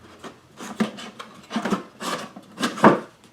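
A heavy wooden crate lid, roughly 25 pounds, is worked into place on top of the box, with scraping, rubbing wood-on-wood sounds in several short bursts and soft knocks, close and fairly loud.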